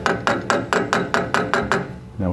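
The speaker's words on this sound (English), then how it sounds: "then I use a hammer to tap it in" A hammer taps a choke pin into the carburetor of a classic VW Beetle, eight evenly spaced sharp metallic knocks, close and clear, followed by a brief voice at the end.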